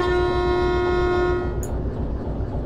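A locomotive horn in the Derail Valley train simulator sounds one long, loud, steady blast with a rich stack of tones, cutting off sharply midway and leaving engine rumble beneath, with no talk.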